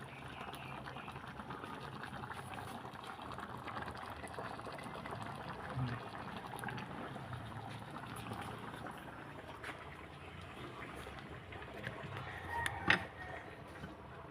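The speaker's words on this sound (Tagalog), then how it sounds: "Kaya kumukulo na." Steady bubbling of a pot of water at a rolling boil, a continuous low churning texture with a brief clink near the end.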